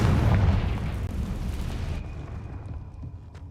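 Confringo fire spell detonating in Hogwarts Legacy on hard mode: a loud, deep booming blast at the start that rumbles and decays over a few seconds, with a thin high tone lingering afterward.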